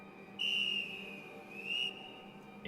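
A video game whistle sounds as a sustained, high-pitched tone that holds, dips slightly, then rises again before cutting off, loud and alone.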